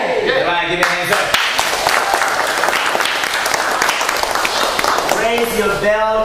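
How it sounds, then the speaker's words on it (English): An audience applauds at a martial arts black belt rank ceremony, a sustained dense clatter of many hands clapping, with voices calling out at the start and end. "Everybody give me a hand"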